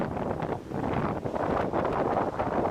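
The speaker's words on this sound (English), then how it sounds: "There was just some way to block the wind." Harsh wind in extreme Canadian winter cold, roaring steadily and close to the microphone as a dense, gusting rush with no voices.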